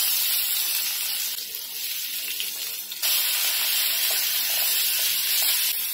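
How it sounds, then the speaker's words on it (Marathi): Onion dropped into hot oil in a kadhai, a loud hissing sizzle that swells and then holds steady, close up, with no one speaking. "तेल आहे ना गरम झालंय, आता आपण कांदा टाकून घेऊया।"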